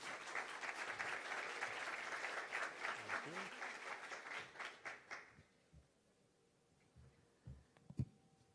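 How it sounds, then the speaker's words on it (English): An audience at a tech event's opening ceremony in Tokyo applauds to welcome a speaker, dense clapping for about five seconds before it thins out and fades to a quiet room with a few knocks. "please give a big round of applause to Aya"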